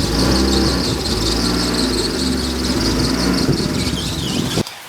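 BMW E36 with driveshaft trouble after a drift day, rolling slowly into a garage: a loud, steady engine drone with a continuous high squeal riding on top, close and unbroken for several seconds before cutting off, no talking.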